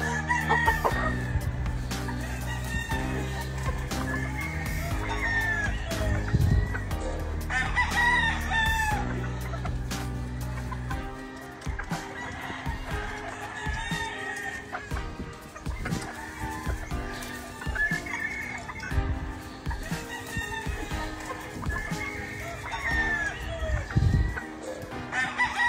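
An Albany Roundhead Kelso gamecock at a farm crows repeatedly, its calls set against steady background music with a little talk.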